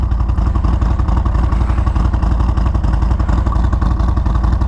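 A 2023 Harley-Davidson Road Glide Special with a Screaming Eagle Stage 2 upgrade rumbles steadily and loudly while riding, its deep, throbbing exhaust pulsing continuously up close with no voices.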